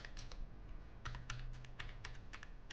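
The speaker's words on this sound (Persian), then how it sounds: "یه پسوردی رو تایپ میکنم" Someone types a password on a computer keyboard: quiet, quick, irregular keystroke clicks close by, with no talk.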